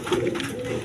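A brief low coo from a pair of desi coloured red checker Rasgolla pigeons, near and steady, lasting under a second.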